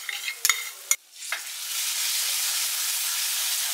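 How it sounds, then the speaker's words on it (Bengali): Onions fried reddish-brown with ginger garlic paste for mutton kosha, stirred in a pan: a few sharp scraping clicks, then a steady broad sizzle that swells and holds, close and fairly loud, with no talking. "পেঁয়াজগুলো লালচেভাবে ভাজা হয়ে গেছে, এবার কিন্তু এর মধ্যে জিঞ্জার গার্লিক পেস্ট অ্যাড করে দেওয়া হচ্ছে।"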